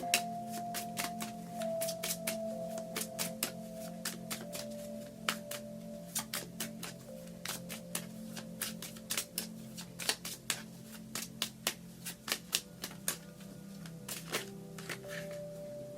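Cards are shuffled in quick, crisp flutters and taps, close up and fairly quiet, over a faint steady hum.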